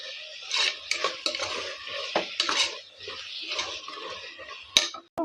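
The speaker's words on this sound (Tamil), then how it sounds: "மஞ்சத்தூள் போட்டு வதக்கிக்கிறோம்." Mutton pieces with turmeric being sautéed in a pan, with steady sizzling, scraping and clinking of a spatula stirring against the metal, plus a sharp clack near the end, close up and without talk.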